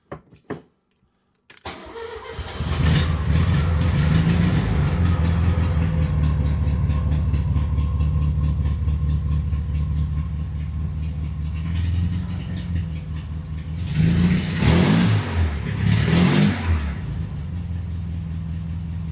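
A 1960s VW-based Ford Model T kit car engine cranks and catches, then runs as a steady, loud, close air-cooled chug. Later it revs up and down as the car pulls away.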